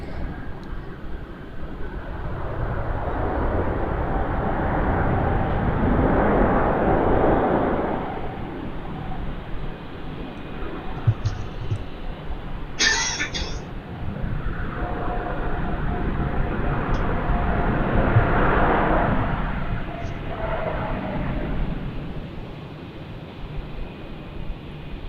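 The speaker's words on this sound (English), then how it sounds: "The mighty 777 of Cathay." Cathay Pacific Boeing 777 airliner at Melbourne Airport in foggy conditions, a broad steady engine roar that swells and fades twice over about twenty-five seconds, moderately loud and continuous, with no talk.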